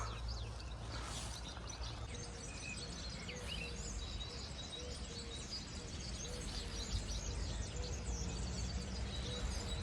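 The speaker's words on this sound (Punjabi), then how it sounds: "ਚਿੜੀਆਂ ਦੀ ਆਵਾਜ਼ ਸੁਣੀ ਬੜੀ ਸੋਹਣੀ ਲੱਗਦੀ ਹੈ" Sparrows chirping in a park, faint scattered tweets over a steady wash of outdoor ambience and distant low rumble, continuous and soft throughout.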